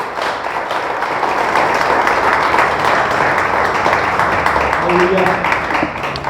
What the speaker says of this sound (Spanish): Le damos un aplauso a Dios por eso